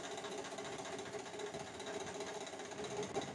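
Bending machine folding metal strip for channel letters, producing a steady mechanical whir and rapid buzzing vibration, continuous and moderately loud, with no talking.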